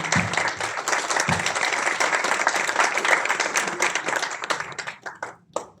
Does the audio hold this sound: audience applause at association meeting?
yes